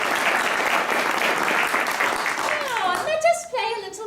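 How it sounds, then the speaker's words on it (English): An audience at a live improvised Dungeons and Dragons show gives a warm round of applause, steady at first, then fading as a voice speaks over the end. "Please give a warm round of applause to the heroes of legend."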